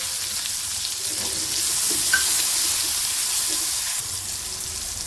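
Chopped tomatoes land in a pan of hot oil with browned garlic for a Vidarbha-style brinjal and potato dish, a steady close sizzle that swells louder as they go in.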